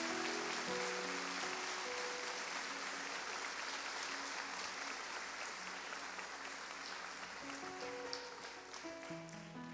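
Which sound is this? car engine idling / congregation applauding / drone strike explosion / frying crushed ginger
congregation applauding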